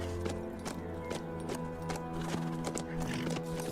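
Steady clip-clop of horse hooves trotting in the video game HumanitZ, with a brief whinny, over a constant background hum; close and continuous, no talking.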